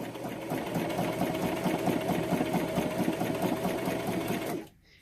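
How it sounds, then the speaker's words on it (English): Sewing machine running steadily as it stitches through paper ephemera, a continuous motor whir with a rapid needle rhythm, close and loud for about four and a half seconds before stopping abruptly. "literally put your foot down and start sewing."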